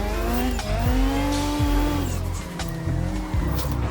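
A race car in Assetto Corsa snaps into oversteer as the throttle lifts mid-slide. Close, steady engine drone shifts pitch several times, with tire squeal and brief skid noises layered over it throughout.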